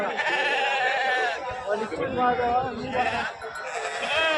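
Several sheep, including lambs and pregnant ewes, bleat close by at the Gudur sheep market in overlapping, wavering cries, loud and repeated across the whole stretch.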